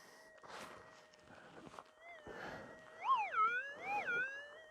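A Minelab SDC 2300 metal detector gives a warbling tone over a gold-field target, rising and falling in pitch several times amid faint scraping and footsteps in the background.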